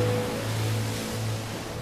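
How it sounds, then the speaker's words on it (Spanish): Storm waves surge and wash around the schooner Southern Cross off the coast of Chile, a steady, dense roar of churning water with a low hum beneath. "Las olas sacuden el navío mientras en el cielo se desata el infierno."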